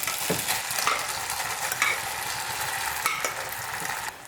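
Cooked broken wheat is stirred into melted ghee in a pan for a payasam, giving a steady sizzle with frequent scraping strokes of the stirring spoon.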